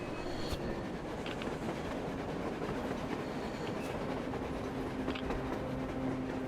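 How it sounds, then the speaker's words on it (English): In the video game Metro Exodus, a train rumbles past steadily with rolling wheel noise and occasional metallic squeals and clanks, continuous and fairly loud. "A train! A damn train on the surface!"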